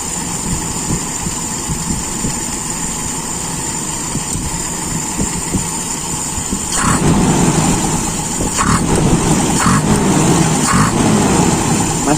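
A Toyota Kijang engine fitted with an Aisan carburetor runs at a steady idle close by, then is given sudden throttle blips that raise the roar in brief surges before settling back.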